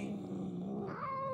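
A cat in the game Murdered: Soul Suspect growls low and steady, then rises into a tense, drawn-out yowl, faint and close with no talking over it.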